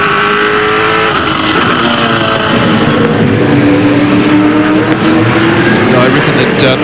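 V8 Supercar race car engines roar and rev near the limit on the Eastern Creek circuit in 2003, a loud continuous drone with rising and falling pitch as cars pass, under a commentator's voice.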